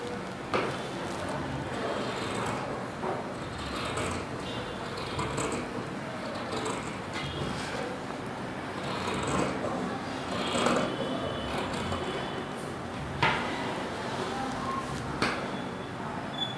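Kurta fabric being cut, with repeated crisp snipping and crunching strokes in an uneven rhythm, close by over a constant background hiss.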